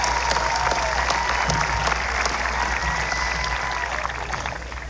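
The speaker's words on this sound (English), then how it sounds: "Let's give our graduates a round of applause" A crowd applauds graduates at a high school graduation ceremony, a dense, steady clapping with scattered cheers and a low hum beneath, tapering off near the end.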